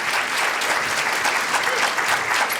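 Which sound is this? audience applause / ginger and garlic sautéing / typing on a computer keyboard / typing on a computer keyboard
audience applause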